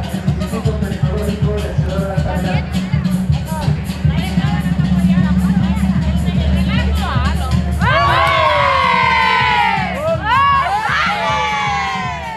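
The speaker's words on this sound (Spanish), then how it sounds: "vamos a darle un aplauso" A large crowd at Cutzamala's 168th anniversary celebration cheers and shouts with loud whoops and high excited voices, building toward the end; no clear clapping stands out.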